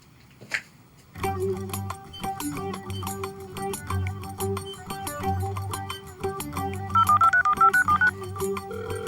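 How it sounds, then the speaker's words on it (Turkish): An electronic telephone tone pattern plays with repeated rhythmic beeps and a brief rising tone burst near the end, loud and close, with no talking. "Lan telefonmuş bu."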